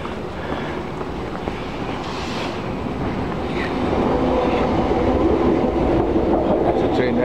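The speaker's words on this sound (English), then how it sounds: "That's a train there." A train rumbles past London Fields station with rolling wheel noise and clatter, the sound swelling slightly louder toward the end.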